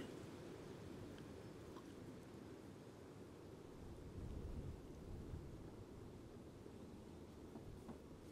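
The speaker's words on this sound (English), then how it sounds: "So annoying, isn't it, that wind, isn't it?" Wind buffets an outdoor spot during air rifle shooting, a constant low roaring rush that swells slightly midway and never lets up, loud and close like gusts hitting the microphone.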